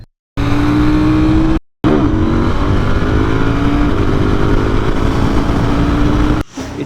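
A KTM 990 motorcycle engine drones loudly and steadily while riding, its pitch climbing as it pulls through gears, with brief cuts to silence.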